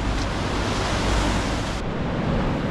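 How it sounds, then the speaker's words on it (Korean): Small sea waves splash against the rocky shore near Chuam on the Samcheok–Donghae coast in a steady, loud, close wash of surf with wind noise and no voices. "큰 파도는 아니어도 튀어서 넘어오네."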